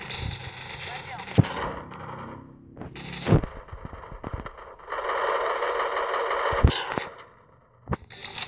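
MP5 submachine gun firing in a video game match, heard as rapid clattering bursts and sharp shot cracks amid game noise, with someone speaking Portuguese over the action.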